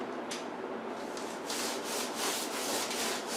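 Steady rubbing of a wrap onto a water heater, a continuous dry brushing sound with soft repeated swipes growing slightly louder toward the end, close by and without talk.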